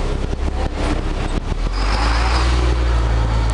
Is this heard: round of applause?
no